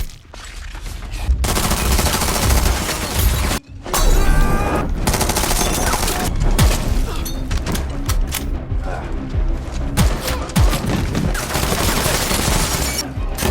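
Dense, relentless gunfire in a film sniper shootout, with rapid overlapping shots and bursts filling the whole stretch and only one brief gap, loud and close.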